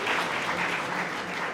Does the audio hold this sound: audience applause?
yes